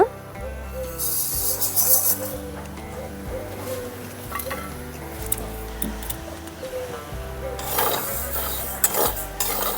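Sago pearls are lightly fried in a pan, giving rough scraping and rasping stirring sounds with bursts of sizzle, over steady background music.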